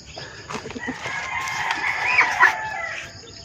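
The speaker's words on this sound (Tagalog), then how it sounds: "nandito sa kabila yung mga sisiw natin ngayon ipapakainin natin nandito yung pakain" Rooster crowing and chickens clucking near a coop at feeding time, with chicks present; a loud crow rises over steady background clucking and chatter.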